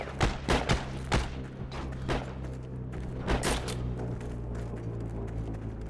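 Gunfire in the World War II shooter Heroes & Generals: a rapid cluster of sharp, close shots, then a few more spaced bangs over a steady low hum, loud at first and tapering off.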